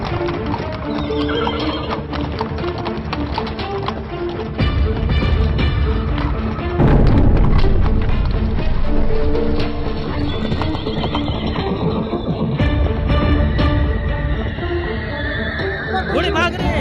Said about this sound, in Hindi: घोड़े भाग रहे हैं